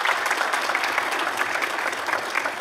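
Continuous crowd applause at a poetry competition show, a thick even wash of clapping that holds at the same level for a couple of seconds without voices.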